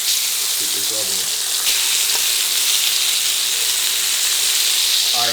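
Burgers sizzle steadily in a hot pan after being flipped, a continuous loud frying hiss with a few brief clinks of the spatula near the start.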